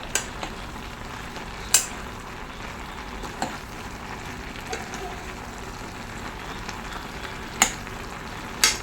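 Natholi (anchovy) fish aviyal being slowly mixed with coconut oil in a pan in a Kerala kitchen, giving a faint, steady low sizzle with a few sharp utensil taps scattered through.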